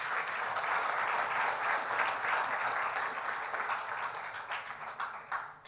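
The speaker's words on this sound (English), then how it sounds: "and a round of applause for all of you as well" Applause from the audience at the Wai Wai Glocal Teen Hero Nepal 2022 award gala, a sustained wash of clapping that thins and fades toward the end.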